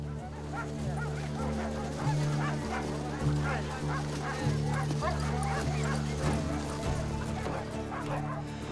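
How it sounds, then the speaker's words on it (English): Sled dog teams gathering in the Arctic for the Nunavut Quest race, many dogs barking, yipping and whimpering together in a dense, continuous chorus at close to mid range, with occasional voices mixed in. "dog teams are arriving from all directions"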